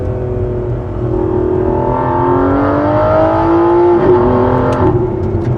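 An Aston Martin Vanquish Zagato Shooting Brake engine revs up, its pitch climbing steadily and loudly, then shifts and settles into a strong, sustained drone nearby.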